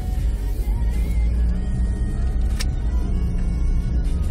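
An old car's engine runs steadily at idle, a continuous low rumble that stays close and fairly loud throughout, with no talking.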